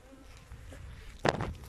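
Honey bees from a swarm buzz in a soft, steady hum, with one louder close pass of a bee near the end.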